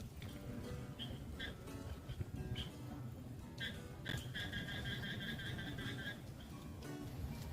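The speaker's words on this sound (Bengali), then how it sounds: "ব্যাঙের আওয়াজ শুনতে পাচ্ছ এখানে বৃষ্টি পড়লে কিন্তু ব্যাং ডাকে" Frogs croaking in quick, chirping bursts, one run of rapid repeated calls standing out, against a faint low background rumble; fairly quiet overall.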